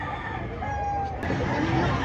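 A gamecock rooster of SBR bloodline, offered for sale among fighting cocks in Lipa City, crows once, loud and close, over steady background noise and faint chatter.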